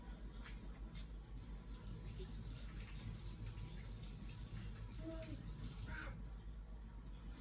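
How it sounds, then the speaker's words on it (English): Tap water runs steadily into a sink as hands are rinsed in a home kitchen while baking chocolate chip cookies, a continuous close splashing hiss with faint clinks near the end. "I'm going to rinse my hands off"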